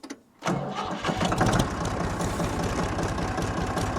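A Ford tractor engine cranks after a brief quiet moment and catches, settling into a loud, close, rapid diesel chugging that stays steady to the end, with no voices.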